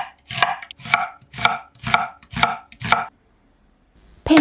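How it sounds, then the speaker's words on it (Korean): Six crisp, evenly spaced knife strokes on a cutting board as cabbage is finely shredded, each a sharp chop close up, followed by a pause and a final clatter. "양배추는 가늘게 채 썰어 줄게요."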